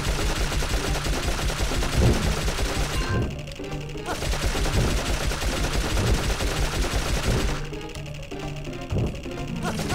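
Rapid bursts of video game gunfire from Dark Cloud fill the scene, dense and loud, with repeated shots over busy music and brief quieter gaps.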